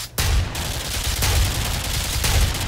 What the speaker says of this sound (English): Should I fire my gun?